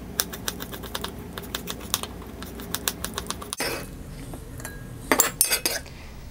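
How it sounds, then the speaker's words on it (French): A knife chops tomatoes into small pieces on a cutting board with quick, crisp, rhythmic taps, close and clear. After a short pause a louder cluster of cuts follows. No voices. "دابا غنوريكم كيفاش تقطعوا الطماطم"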